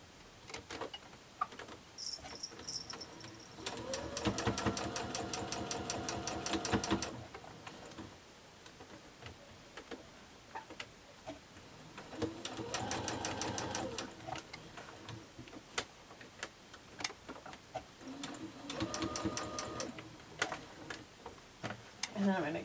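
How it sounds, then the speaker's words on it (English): A sewing machine runs in short bursts while nesting and stitching quilt block seams for a mini quilt, its rapid needle clatter rising and stopping three times, with quiet talk in the pauses between runs. "So I'm going to nest those seams together and then stitch this one."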